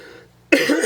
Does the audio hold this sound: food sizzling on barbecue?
no